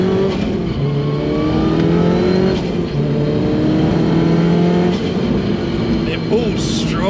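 Modified Mk1 Audi TT quattro with a 460 bhp engine accelerating hard, a loud, steady rising engine note with gear changes around two and five seconds, while people talk over it.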